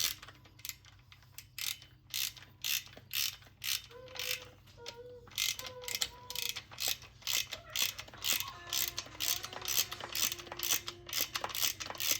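A ratchet wrench tightens the jet pump bolts on a SeaDoo 130 or 155 GTI, making rapid clicking runs that come in repeated bursts with brief pauses between them, close-up and steady, with metallic creaks and no talking.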